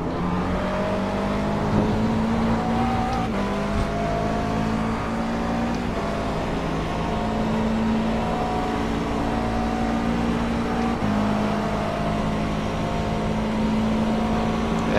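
A McLaren GT race car engine in the iRacing sim, Blancpain Sprint at Watkins Glen, drones loudly and continuously, its pitch climbing and dropping with brief breaks at gear shifts.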